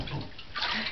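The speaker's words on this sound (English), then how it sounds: "You pour it on her head again, Dominic." Water splashes and pours in a bathtub over a child, a short close slosh lasting about a second with no talk over it.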